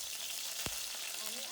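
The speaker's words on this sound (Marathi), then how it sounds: "आता आपण कढईमध्ये तेल टाकूया। ते पॅन मध्ये सगळ्यात आधी टाकूया थोडंसं जिरं, कढीपत्ता" Cumin seeds and curry leaves sizzle in hot oil in a pan for fasting-day sabudana khichdi, a continuous bright crackling hiss with one sharp click partway through.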